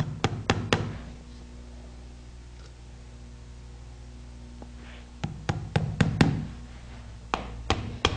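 Hammering horseshoe nails into a horse's hoof held in a hoof cradle: sharp metallic taps in quick bursts of several strikes, with a quiet pause in the middle, close and clear with no talking.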